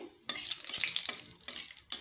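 White cumin seeds, two bay leaves and a dried red chilli sizzle in hot oil, with a sharp burst of frying that swells and fades in waves, close and fairly quiet, with no talk.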